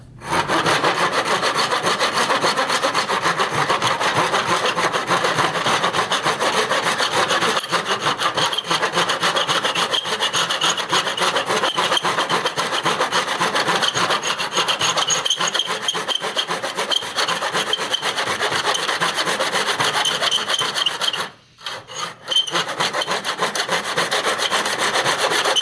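A hand saw cuts through wood for a miter joint in steady, rapid back-and-forth rasping strokes, close and loud, running continuously with a brief pause near the end.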